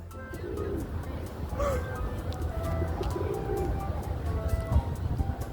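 Pigeons cooing outdoors at a Pride event in Rhode Island, several soft low coos repeating over a constant background of distant traffic and crowd murmur.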